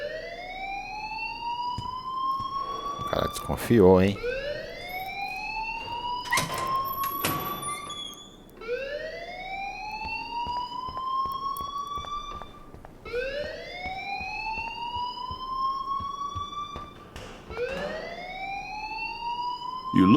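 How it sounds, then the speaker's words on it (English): Rising, wailing alarm from the game Life is Strange, sweeping upward in repeated cycles every few seconds and continuing steadily, with a man's brief spoken remark and some clatter over it. "please turn off that alarm since that's your job"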